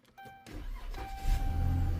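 A push-to-start car engine cranks after a fuel pump replacement, with a short electric whir before the starter catches and the engine fires into a steady, throaty idle that swells slightly as it settles.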